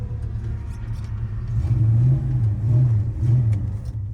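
A 1970 Plymouth Duster 340 V8 engine rumbles at idle, then revs in three deep, swelling pulses, close and loud.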